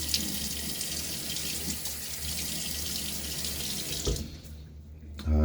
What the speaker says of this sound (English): I'm going to put a little water on my face.